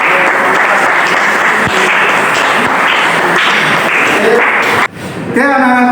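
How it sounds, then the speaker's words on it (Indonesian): A classroom of students applauds loudly and continuously for several seconds; the clapping cuts off near the end, followed by a short burst of music-like tones. "Tepuk tangan."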